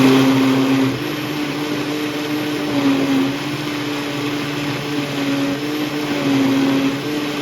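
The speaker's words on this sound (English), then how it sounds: "This is a smoothie blender." A smoothie blender churns a thick Jamaican Irish moss drink, its motor holding a steady, fairly loud whine with a low hum underneath and slight swells in pitch throughout.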